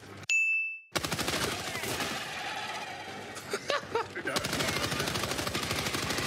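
Rapid bursts of machine gun fire in the Helldivers 2 video game crack out loud and close, continuous volleys with a brief ding at the start and faint voices underneath.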